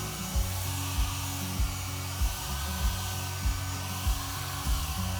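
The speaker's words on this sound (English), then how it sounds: "Notice I sprayed everything on." Black primer is sprayed onto a wooden dresser during a makeover, giving a steady hissing whir broken by regular soft pulses about every half second, with no voices.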